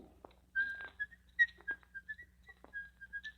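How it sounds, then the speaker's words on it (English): A man whistles a wandering tune in short, bright phrases with brief gaps, fairly close and clear, over a faint low hum in a radio-drama room scene. "And don't whistle."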